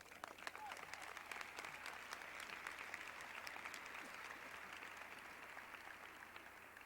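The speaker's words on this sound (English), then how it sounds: "I would like to have all of the faculty and the administration receive a round of applause." Audience at a 1989 high school graduation ceremony applauding the faculty and administration, a sustained, even round of many hands clapping heard from a distance, with no speech over it.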